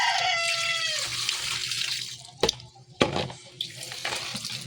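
Water runs from a tap while helmet padding is rinsed in a sink, a continuous splashing flow broken by two sharp knocks and handling noises, with a rooster crowing faintly at the start.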